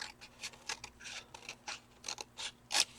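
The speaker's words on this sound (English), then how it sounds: "So I'm just going to trim without cutting the cardstock." Scissors trim the edge of a cardstock strip for a paper snippet roll, giving short, quiet snips and rustles in a loose run, close by and with no talk.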